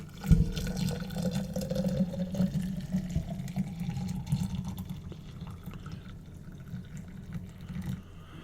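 Preheated water poured to fill a teapot for oolong tea, a steady close splashing fill running through most of the clip, with a rising tone as the vessel fills.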